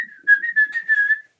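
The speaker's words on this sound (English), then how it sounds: "You can also whistle" A person whistles a single steady, clear sustained tone, slightly wavering in loudness, heard alone and close, used by a curandero to call in spirits.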